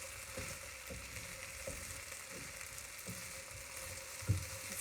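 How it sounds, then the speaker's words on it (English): Potatoes fry with onions in a skillet, giving a steady close sizzle broken by the regular scrape of a utensil stirring them through, with no talking. "We've got them in the skillet here. Just mixing them through the onions and everything."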